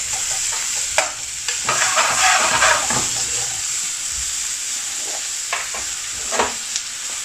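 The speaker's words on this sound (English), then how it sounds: "Then I'm going to add some finely chopped onion, about 100 gram, 110 gram of onion" Finely chopped onion, about 110 grams, sizzles steadily in a pan while a utensil stirs it in several brief scraping bursts, with no voices present.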